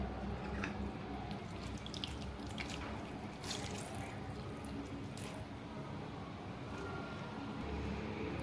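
Water drains from chopped bottle gourd salted for five minutes as it is strained, giving faint scattered drips and trickles over a low steady background.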